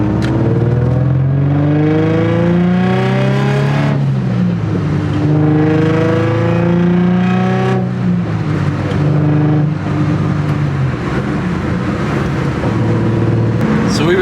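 Nissan 350Z engine with new solid differential bushings, revving and pulling through gears on a test drive, rising harmonic sweeps repeating with each shift, loud and close, steady throughout with no talk.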